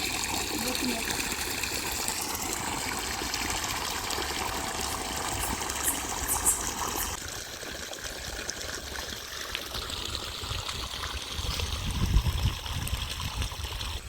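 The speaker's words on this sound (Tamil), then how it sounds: "பக்கத்தில் தண்ணி பம்ப் செட்டு போய்கின்னு இருக்குது." A water pump set runs beside a village well, giving a steady trickling, gushing flow of water the whole way through with a constant mechanical drone under it and some rustling nearby.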